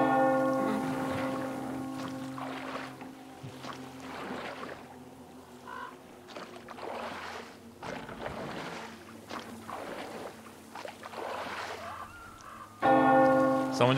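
A bell tolling in the video game Metro Exodus, with several resonant strikes that ring out and decay over a sustained humming tone, fairly clear and with no talking.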